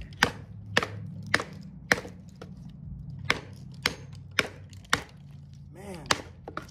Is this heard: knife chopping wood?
yes